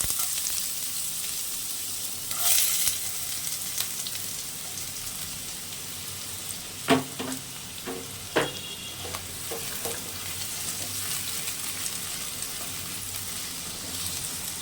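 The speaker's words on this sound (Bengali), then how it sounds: "কড়াতে তেল দিয়ে দিয়েছি এবার একটু গাজর দিয়ে দিচ্ছি" Carrots fry in hot oil in a wok, giving a steady crackling sizzle with a few sharp clatters of stirring in the middle; close and fairly loud, no voices.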